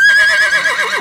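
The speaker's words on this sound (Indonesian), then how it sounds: "horse," A horse whinnies in a single bright, shrill call with a wavering, descending tail, close and loud, no other sounds around it.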